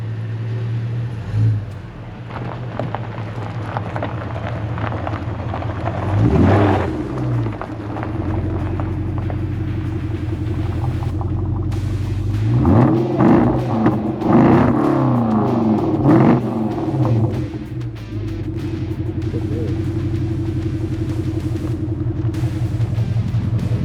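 A Jaguar car engine idles with a deep, close rumble and clatter, then revs up twice in rising, rowdy bursts before settling back to a steady run.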